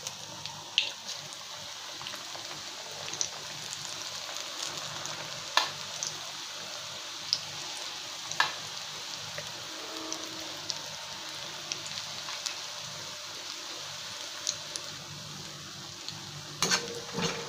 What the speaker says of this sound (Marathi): भजीचा पहिला घाणा जसा आपण तळून घेतलेला आहे तसाच हा दुसरा घाणा आपण खरपूस तळून घ्यायचा आहे.